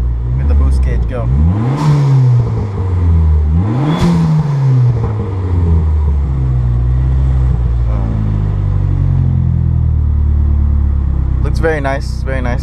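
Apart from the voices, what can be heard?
2004 Dodge Neon SRT-4 turbo accelerating on test drive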